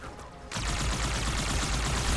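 Heavy turret fire from Halo 2 Anniversary, a loud continuous roar of rapid shots that starts abruptly after a brief quieter moment and keeps pounding without a break.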